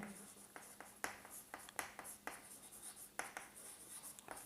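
A marker or chalk scratches across a board during a plant physiology lesson, producing a series of short, quiet strokes and taps in an irregular rhythm. No one speaks.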